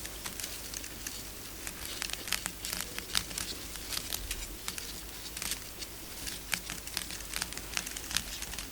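Sheets of paper are crumpled and crinkled by hand, a busy stream of sharp crackles and rustles close to the ear, with no talking.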